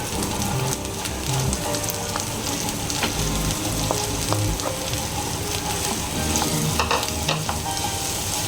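A spoon scrapes and stirs through sizzling mashed potato masala in a pan, with soft clinks and steady crackling throughout.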